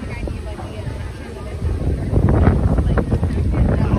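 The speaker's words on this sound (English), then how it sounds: "Windy." Wind gusting across a microphone outdoors at a walking tour of the Minnesota State Fair grounds, loud rumbling buffets that strengthen in the second half, with a voice briefly audible.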